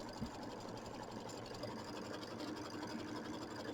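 An embroidery machine stitches a block with white thread, giving a quiet, steady mechanical whir and rapid chatter that runs unbroken throughout.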